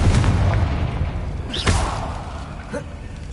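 A Confringo fire spell bursts in a Harry Potter video game, a loud boom-like blast with a second crack under a continuous rumbling game soundscape and talk.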